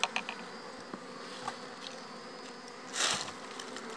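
Honeybees buzz in a steady, faint drone close by around a honeycomb being harvested after smoking, with a louder burst of buzzing as one passes near the microphone.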